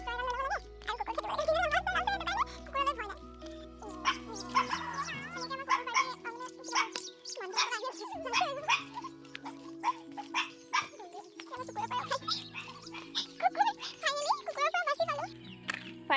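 A dog barks in short, repeated bursts near a home, mixed with people talking throughout and a faint jingling now and then.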